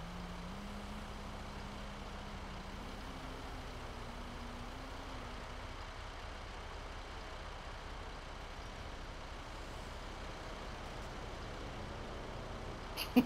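In GTA 5, a garbage truck's engine drones quietly and steadily as it drives, its pitch rising and settling, with a few faint clicks near the end.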